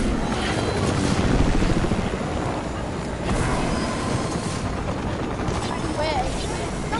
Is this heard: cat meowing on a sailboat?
no